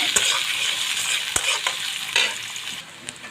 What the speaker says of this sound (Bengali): পেঁয়াজগুলো দিয়ে হালকা একটু আমি ভেজে নিব